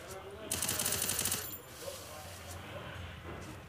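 Rapid UMP submachine gun fire in a mobile battle royale shooter, one loud burst of about a second followed by quieter game sounds.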